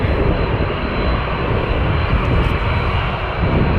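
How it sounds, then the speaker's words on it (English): A Boeing 787 Dreamliner jet at Toronto Pearson airport produces a loud, steady broadband engine roar at close range, constant with no break or other sounds. "Then our Dreamliner lining itself up."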